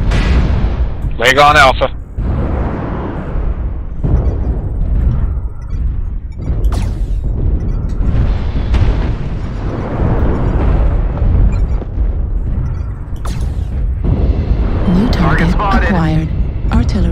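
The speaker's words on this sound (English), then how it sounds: "Artillery strike activated." Artillery strike explosions in a BattleTech mech game, heavy booms and rumbling blasts layered over constant battle noise, with a voice speaking briefly over the din.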